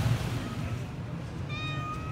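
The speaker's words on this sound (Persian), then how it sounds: "البته اینجا مثل تمام جاهای تهران پیشی بد اخلاق هم داریم" A cat on Manouchehri Street in Tehran meows near the end, a short high tonal cry rising over faint, low street rumble after a stretch of quiet background.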